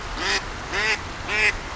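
A Semyonov breed decoy duck quacks three times in an even rhythm, each call a loud nasal quack close to the listener over a quiet background.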